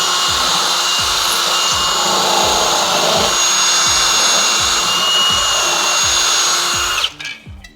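A Dremel fitted with a carbide tip grinds grout out between tiles, a steady high whine with a rhythmic scraping pulse, close and loud, before the tool abruptly cuts off near the end.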